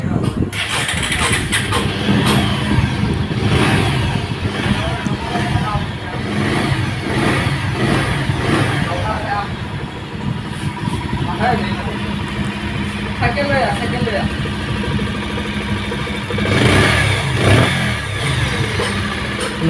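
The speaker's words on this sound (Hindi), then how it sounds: "मैंने बाइक को जो है स्टार्ट करके रखा है। आप लोग एक बार साउंड को थोड़ा गौर से सुनिएगा" A Bajaj Pulsar 150 motorcycle engine runs steadily just after a timing chain change, a continuous close idle with slight revving swells, while someone talks over it throughout.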